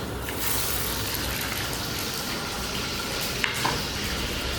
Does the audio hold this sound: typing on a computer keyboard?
no